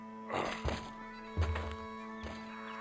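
Heavy thuds of a tossed caber landing in the video game The Curse of Monkey Island, a few deep impacts one after another over a steady electronic hum, with a brief animal-like whinny sound mixed in.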